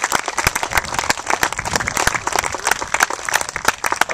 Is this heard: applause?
yes